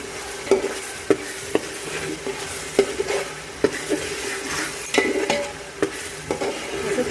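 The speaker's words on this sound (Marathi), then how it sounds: "नंतर त्याच्यामध्ये टाकायचं आलं लसूण पेस्ट 3 चमचे छान परतवून घ्यायची" Onion and tomato sautéing in oil with ginger-garlic paste for a large batch of pav bhaji, a steady sizzle broken by repeated sharp clacks of a spoon stirring against the pot, close and fairly loud with no talking.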